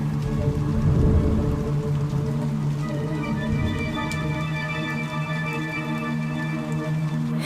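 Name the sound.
heavy rain and storm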